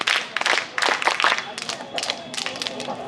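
Participants at a college guiding camp clap in bursts, a group of hands striking in uneven rhythmic clusters close by, with voices mixed in.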